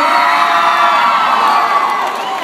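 A large crowd at a high school Snowball King and Queen announcement cheering and shouting loudly, a dense continuous roar of voices with high-pitched whoops, sustained for a couple of seconds.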